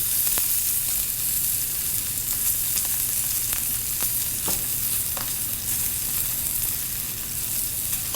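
A steak sears in a hot pan, a loud steady sizzle and crackle of frying fat with scattered pops, close and continuous throughout with no talking.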